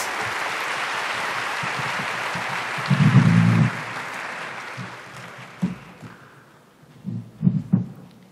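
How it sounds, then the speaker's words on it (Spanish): A conference audience at an annual scientific meeting on metabolic syndrome applauds the speakers, a broad wash of clapping that thins out and fades midway, followed by scattered low thumps and handling noise. "les damos un fuerte aplauso"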